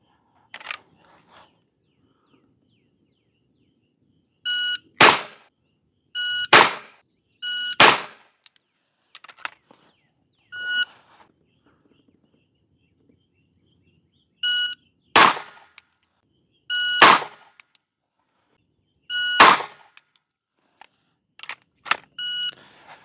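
Handgun shots fired during an LAPD-style police pistol qualification course, heard as loud sharp cracks in short groups of one to three, separated by quiet pauses and electronic timer beeps.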